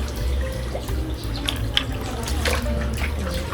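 Shower water running steadily in a resort room bathroom in Porac, Pampanga, a continuous close hiss of spray with faint splashing and drips, no talking.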